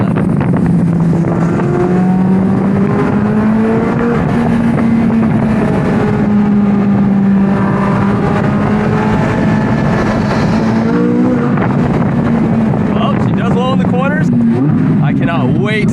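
A Chevrolet Corvette C8 Z06 in Z mode with manual shifting, its engine droning loud and steady through winding roads as revs rise and fall between shifts, with wind rush throughout.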